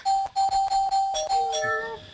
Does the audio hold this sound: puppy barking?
no